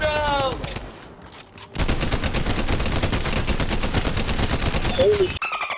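Sustained rapid automatic gunfire from a video game weapon emptying a full magazine, loud and continuous for several seconds after a brief quieter lead-in, with a short voice near the end.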